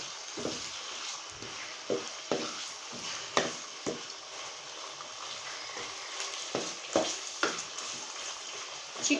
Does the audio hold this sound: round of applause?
no